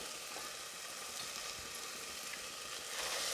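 Spices such as red chilli powder and turmeric fry in oil for mixed dal khichdi, giving a steady, soft, close sizzle with a faint bubbling hiss and no talking.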